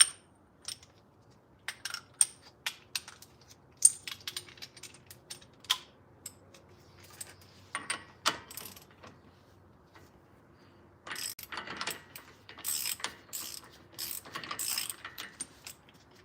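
Mechanical clicks, ratcheting and clanks from working off a broken axle nut: scattered metallic taps and ratchet bursts, fairly close, with busier clattering near the end and no talk.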